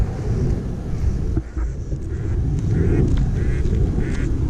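Ducks quack repeatedly while a woman and her dog Rexy chase them outdoors, the calls close and loud over gusting wind noise.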